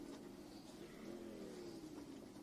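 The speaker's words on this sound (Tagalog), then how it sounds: "may motor." A motorcycle engine revs nearby at night, a faint but steady buzzing drone that rises and holds for a couple of seconds without speech.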